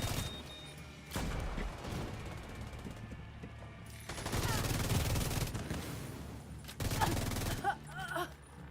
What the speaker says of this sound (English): there's some fireworks going on outside